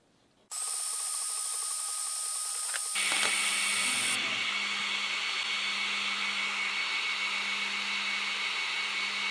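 An Ortur Laser Master 3 laser engraver engraving a slice of ham runs as a steady loud whir with a high whine. It starts abruptly, shifts pitch partway through and then holds constant with no talk.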